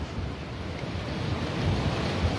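Ocean surf breaks on the beach at Tramandaí, a steady, fairly loud wash of waves mixed with wind buffeting the microphone and no talking.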